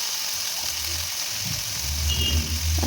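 Dry chilli, a bay leaf and whole cumin sizzle in hot oil for a banana stem ghonto, a close, steady frying hiss with a few soft stirring scrapes.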